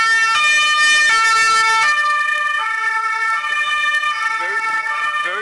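An emergency vehicle siren wails loud and steady as it passes outside, its stepped tones shifting and holding across several seconds with road traffic faintly beneath.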